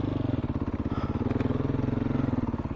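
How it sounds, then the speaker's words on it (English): Beta 500 dirt bike ridden along a Colorado singletrack trail, its engine a steady, close, pulsing thump with rapid even firing beats throughout, no voices. "dual sporting on this bike, while certainly doable, is not very comfortable"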